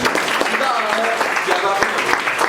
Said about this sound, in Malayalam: നല്ലൊരു കൈയടി.